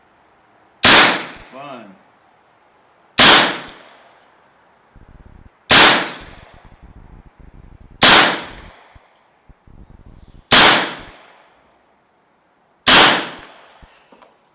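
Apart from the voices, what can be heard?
Evanix Viper .25 caliber airgun firing pellets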